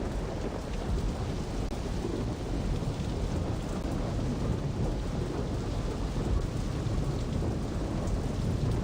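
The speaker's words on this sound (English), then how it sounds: "Now it's gonna rain." Steady heavy rain with rolling thunder in the Saints Row video game, a dense, continuous wash of downpour at an even level throughout, with no voices over it.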